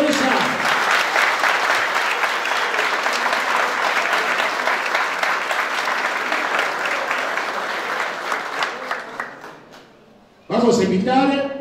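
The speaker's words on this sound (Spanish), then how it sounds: "pedimos otro aplauso por ella" An audience at a political opening event in Levalle applauds a legislative candidate, a loud dense burst of many hands that gradually thins out and fades before a voice comes in at the end.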